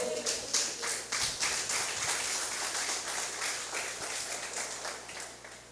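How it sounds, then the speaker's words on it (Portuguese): A church congregation applauds during a sermon, many hands clapping in a steady rhythmic patter that swells slightly and stays even in a reverberant hall. "Aplauda ao Senhor."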